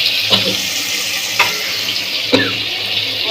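A chicken curry mixture with curry leaves being stirred in a pan, giving a steady sizzle with a few sharp scrapes of the spoon against the metal.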